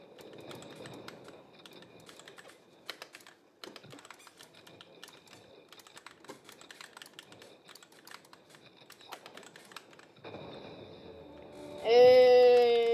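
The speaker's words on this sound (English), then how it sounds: "This is actually a really nice keyboard." Rapid clicking keystrokes on a computer keyboard at a gaming setup, irregular close taps running in bursts, ending with a loud tonal game sound.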